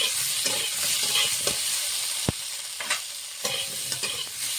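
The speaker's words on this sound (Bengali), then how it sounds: "আলুর সঙ্গে বেগুনটা হালকা করে ভেজে নিয়ে" Potato and eggplant being lightly fried together in a pan: a steady close sizzle broken by brisk scraping stir strokes and one sharp clink of the utensil, with no talking.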